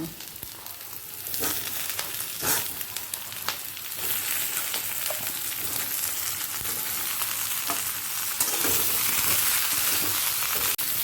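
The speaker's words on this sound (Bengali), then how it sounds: "এরপর দিয়ে দেব কেটে রাখা ঝিঙে" Chopped ridge gourd frying with onions in a pan for a Bengali jhinge posto, a steady broadband sizzle with a few sharper stirring clicks and scrapes, fairly close and continuous throughout.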